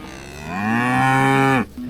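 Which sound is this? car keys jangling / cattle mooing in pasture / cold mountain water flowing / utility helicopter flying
cattle mooing in pasture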